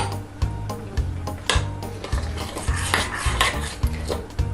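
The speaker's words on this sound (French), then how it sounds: "Alors, on mélange un peu plus." Rum-laced mixture stirred in a bowl with a utensil, a steady run of scraping and clinking strokes with a low rhythmic hum underneath, close and fairly loud, no talking.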